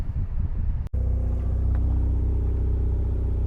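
A Mazda RX8 engine idles close by with a steady, even rumble after a brief cut near the start, holding a constant hum throughout.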